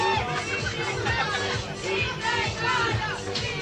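Wrestling arena crowd at a tag match, a dense roar of cheering and babble rising and falling in waves, with a commentator's voice talking over it.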